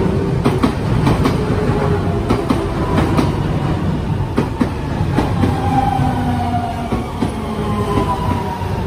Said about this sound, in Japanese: 今ちょうどやってきたのが関西空港方面から来た空港急行に